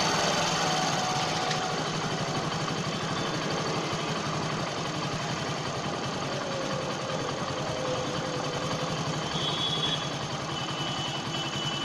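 A Hero 100cc motorcycle engine idles steadily at about 800 rpm after carburetor tuning, a close, even mechanical putter that holds constant throughout with no talking.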